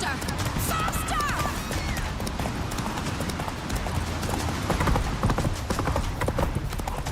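Roach the horse gallops in The Witcher 3, hooves clip-clopping in a quick, steady rhythm near and loud, with game music and effects underneath and a voice speaking over it briefly.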